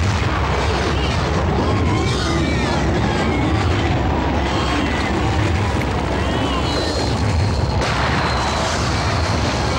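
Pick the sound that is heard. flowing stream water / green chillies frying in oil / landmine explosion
landmine explosion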